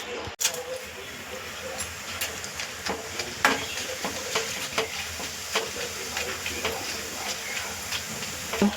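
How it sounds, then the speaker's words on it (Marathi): Shredded potato fries in oil over a low flame, giving a soft, continuous hiss punctuated by light stirring clicks and scrapes, with a faint voice in the background. "आता मी तुम्हाला हा तळून दाखवते"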